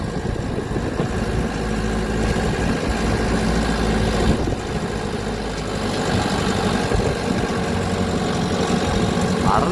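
A vehicle engine drones steadily as it descends a hill road past Courtallam, giving a close, continuous low rumble with road vibration and no break throughout.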